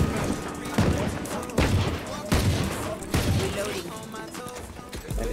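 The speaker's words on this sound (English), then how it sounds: "Macam kena tembak banyak bullet." Rapid gunfire in a first-person shooter, loud and close, coming in repeated bursts with dense shots under a busy game mix, while people talk over it.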